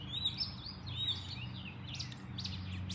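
Red-winged blackbirds and grackles at a backyard feeder give short chirps and squeaky calls, scattered and moderately distant over a low background hum.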